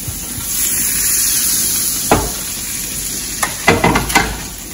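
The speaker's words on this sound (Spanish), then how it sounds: "Ahí voy a echar todas las verduras, miren." Vegetables hitting a hot frying pan with salmon cooking, a steady hiss of sizzling broken by sharp bursts of crackle as more pieces drop in and get stirred.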